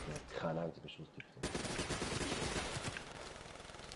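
Rapid bursts of automatic gunfire in the video game Call of Duty Black Ops 3, dense and loud after a short stretch of game voice lines and effects, firing continuing to the end.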